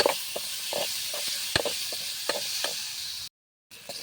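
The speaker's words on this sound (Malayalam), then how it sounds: "തക്കാളിയും കൂടി ഇട്ട് നന്നായിട്ട് ഇളക്കി കൊടുക്കാം." Chopped tomatoes and small onions sizzle softly in a pan while being stirred, a quiet steady hiss broken by scattered scraping and tapping strokes of a spoon, with a brief dropout near the end.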